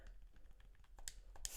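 Rapid, soft keystrokes on a computer keyboard, a quick run of light taps building to a couple of sharper clicks, faint and close with no voices.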